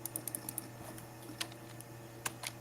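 Keys on a computer keyboard clack in quick, irregular bursts of light taps, fairly close but quiet over a steady low electrical hum.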